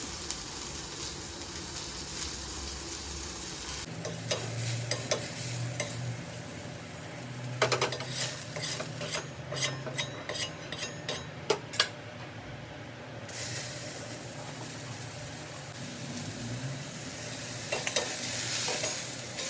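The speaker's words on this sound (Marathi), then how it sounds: "मी कांदा भाजून घेते त्यामध्ये लसूण आणि आलं" Onion with garlic and ginger frying in a pan, a steady close sizzle with stirring and utensil scrapes scraping against the pan, plus a few sharp clinks in the middle; no voices.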